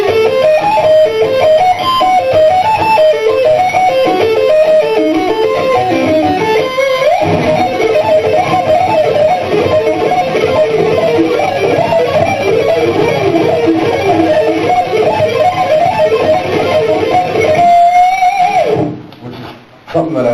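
Distorted electric guitar plays a long stream of rapid diminished licks, dense and loud with sustained high notes near the end before cutting off, no voices over it.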